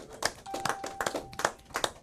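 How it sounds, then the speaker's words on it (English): A go-go music event audience claps for honoree Tony Fisher with quick, rhythmic hand claps, some close and some fainter, over a thin steady tone in the background. "Give him a round of applause."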